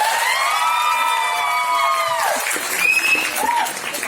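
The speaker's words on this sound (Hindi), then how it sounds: "नंबर 14, जोरदार तालियां" Clapping from the crowd at a bridal fashion show runs under loud, wavering musical tones, with brief voices and cheering mixed in near the end.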